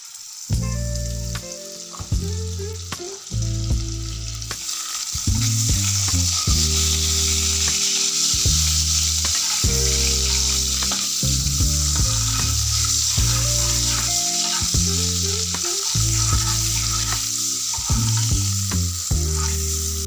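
Butter melts into hot white oil in a wok, giving a loud, continuous sizzle and crackle with repeated stirring knocks and scrapes throughout, no voices present.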